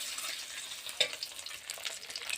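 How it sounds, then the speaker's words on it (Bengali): Eggs frying in hot oil in a kadai with turmeric and salt, a dense continuous hiss with one brief clink, close and steady without speech. "ডিমগুলো হলুদ একটু লবণ দিয়ে ভেজে নিচ্ছি ডিমগুলো"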